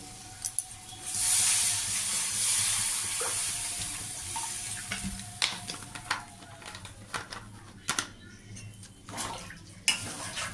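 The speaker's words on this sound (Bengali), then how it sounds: "এবার আমি জল জল দিয়ে দেবো আন্দাজ মতো" Water is poured into a frying ridge gourd and potato curry with masala, a fish curry in progress. A loud, rushing pour lasts several seconds, then gives way to sizzling and intermittent clinks of stirring.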